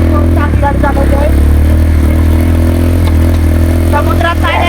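Motorbike engine droning steadily while riding along the road toward the beach, a loud continuous low rumble with brief higher whines and clatter over it.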